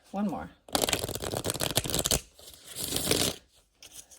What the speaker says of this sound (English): Let me give it one more good shuffle, and then I'm going to split the deck.